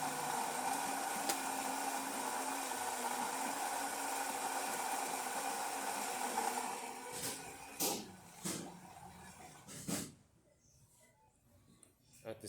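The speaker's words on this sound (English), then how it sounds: "let's go ahead and test it and put the espresso shot on it." Saeco Xelsis Evo espresso machine pulls a test shot after a full tune-up, giving a steady pump hum and whir for several seconds, then sputtering and dripping sounds as it winds down to near silence.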